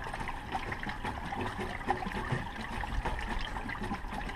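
Water and waste flush out of an RV black holding tank through a reverse flush valve, a steady trickling, splashing flow heard at moderate distance without pause.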